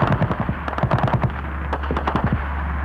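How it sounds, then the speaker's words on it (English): Rapid bursts of gunfire ring out during an attack on a village, clustered volleys of sharp cracks in quick rhythm with a brief lull mid-clip, loud and fairly close, with no voices. "Suddenly, gunfire."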